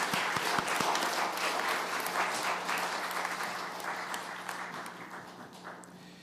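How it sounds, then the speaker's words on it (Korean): A church congregation claps together in a sustained burst of applause during a Sunday worship service, dense and steady before gradually thinning and fading toward the end. "우리 다시 한번 박수로 축복하겠습니다."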